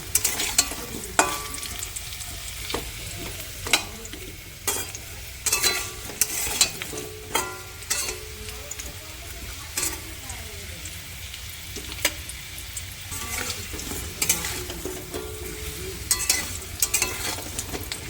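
Potatoes fry in oil in a kadai with a constant sizzle, while a utensil scrapes and knocks against the pan in repeated sharp strokes during stirring, close and clear with no talking.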